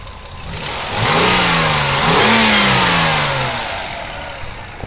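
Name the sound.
2004 Toyota Avalon 3-liter 24-valve V6 engine revving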